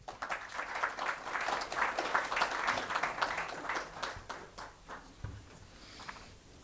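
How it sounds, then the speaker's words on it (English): Audience at a book launch applauds, a lively burst of clapping from a small crowd that builds, holds for several seconds, then thins out into scattered claps. "A round of applause for Manik, please."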